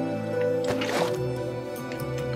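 Water placed from a bucket in Minecraft Skyblock, a short liquid splash and gurgle near the middle over a steady background hum, brief and close.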